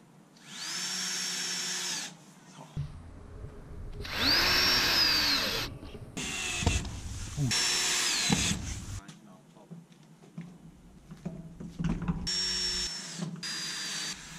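A power drill drives screws through wooden panels into brackets while building an outdoor firewood storage rack, sounding in several whirring bursts of a few seconds each, close and loud, with brief pauses and clunks between them.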